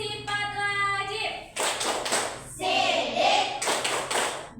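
Children chant a rhythmic clap rhyme listing the obligatory attributes, their voices loud and close, with bursts of hand clapping falling between the sung phrases.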